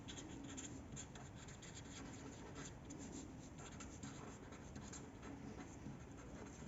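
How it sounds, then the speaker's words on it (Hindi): Handwriting: a steady, faint scratch of a pen or pencil moving across paper, continuous and close, with no voices over it. "मैं लिख देती हूँ।"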